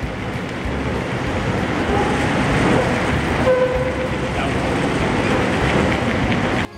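A train in Paris rumbles steadily with broadband rail noise, a brief tonal squeal or horn-like note in the middle, and faint voices in the background.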